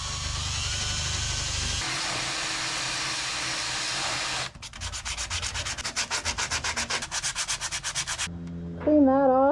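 Steady abrasive rubbing of a power sander on a rusty Ford F-150 truck body, continuous and close, shifting to a rapid pulsing scrub partway through before stopping.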